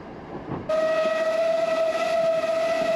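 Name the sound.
Isle of Man steam railway train running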